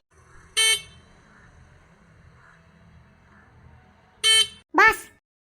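A vehicle horn honks three times, once, then twice close together after a pause, loud and near over a low rumble of traffic.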